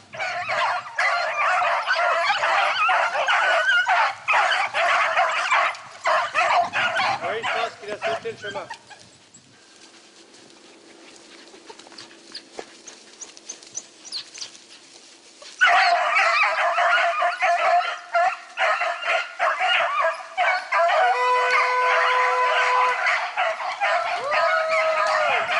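Hunting hounds with very keen noses baying and yelping on a hare hunt in Touraine, a dense chorus of barks in two long bursts separated by a quieter lull, fairly close and loud.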